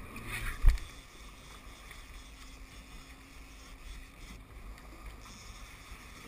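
A boat motor on a tuna fishing trip, throttled gently, gives a low steady rumble with wind-like hiss, fairly quiet throughout, with a brief bump near the start and no clear talking.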